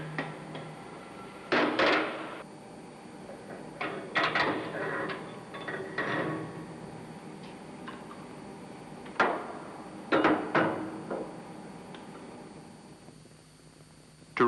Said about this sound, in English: tap it lightly with a tin hammer